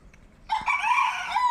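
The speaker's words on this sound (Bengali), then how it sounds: "মোরগ ডাকছে, পাখি কিচিরমিচির ডাকছে" A village rooster crows once, loud and close, a single long drawn-out call that starts abruptly after a moment of quiet and carries through to the end.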